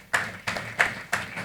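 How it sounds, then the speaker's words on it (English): Audience at a Lagos group office launch clapping in a few distinct bursts, several sharp rhythmic claps close by at moderate volume, with no one talking over them. "let's make welcome with a round of applause that would be heard in every part of Lagos"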